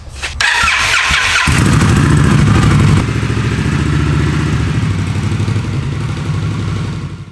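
An Indian Scout Sixty motorcycle engine starts and runs loud and close, settling from a revving roar into a steady, throbbing idle.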